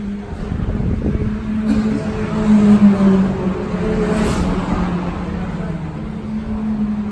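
A Ford Fiesta ST MK8 on a race track, its engine droning steadily near and loud with a brief rise in revs, and low voices faintly underneath.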